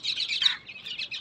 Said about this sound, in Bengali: কত পাখি টাখি, এই টিয়া পাখি দেখো এখান থেকে।